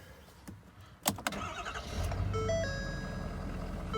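A 2019 Ford Powerstroke diesel pickup with a Banks Derringer tuner installed cranks and fires up nearby after a few clicks, settling into a steady rumbling idle with dashboard warning chimes sounding over it.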